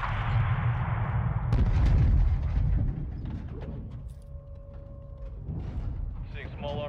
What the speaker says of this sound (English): Seeing small arms fire from the gas station